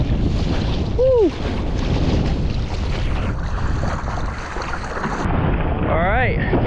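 Wind buffets the microphone while someone rides a Foil Drive board upwind on open water, a steady loud rush with a few short whistling tones and faint splashing.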